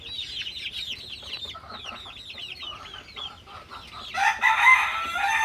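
A backyard flock of six-week-old chickens, five roosters and six hens, makes a rapid string of high, close, repeated clucks and calls, with a louder, harsher burst of flapping or squawking near the end.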